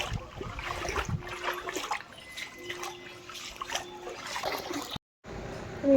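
Water covers a flooded road, sloshing and splashing with small drips and trickles, close and fairly steady. It cuts out briefly before returning at the end.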